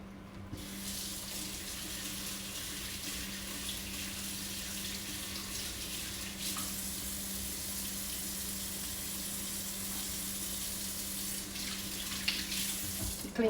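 A spatula rinsed under a running kitchen tap: a continuous, even rush of water hitting a sink, close and steady throughout, with faint shifts as the utensil moves through the stream.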